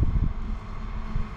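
Wind blows hard at the shore during a winter fishing trip, gusty low buffeting against the microphone with rumbling surges, close and continuous.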